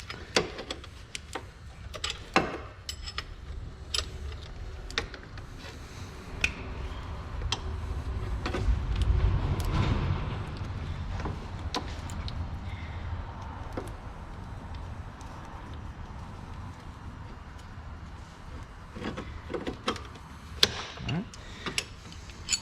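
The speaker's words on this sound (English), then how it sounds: "I'm just gonna go ahead and use some 17mm wrenches, double wrench it if I have to" Metal clicks and clanks of 17mm wrenches working on the drive belt of a 2012 VW Beetle, scattered sharp ticks and taps over a low engine-bay rumble, with a louder muffled thump around the middle.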